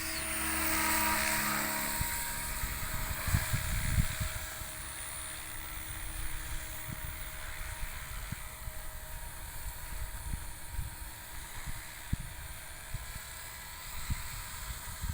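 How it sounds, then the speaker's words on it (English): An OMPHOBBY M4 Max RC helicopter flies with a steady, fairly low motor and rotor drone that carries at moderate distance, with faint scattered knocks and handling noises. "Now listen to the sound of the motor. I think you will hear at once that it's another note, it's much lower."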